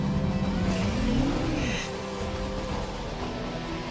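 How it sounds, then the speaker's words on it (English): A motorbike engine revs in a Metroid Prime 4 game trailer, a rising and falling whine that climbs sharply and then settles into a lower steady drone, heard at moderate level with some voices over it. "To ride a motorbike with Samus Aran?"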